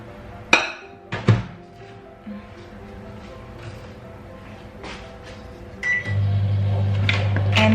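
A microwave oven heating milk hums steadily and low after a few sharp clinks of glass and dishes being handled nearby, with the hum swelling louder toward the end.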